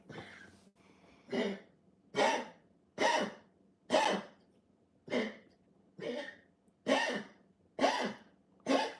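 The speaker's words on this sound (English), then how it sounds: "He's usually not coughing this much." A series of about nine harsh, raspy coughs or throat-clearing bursts, evenly spaced roughly a second apart, close and fairly quiet with short pauses between.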